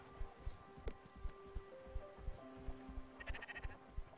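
Sheep bleating in the video game Spiritfarer, a few short repeated bleats over steady rhythmic game music, moderately loud and close.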